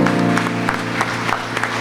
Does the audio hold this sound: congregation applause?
yes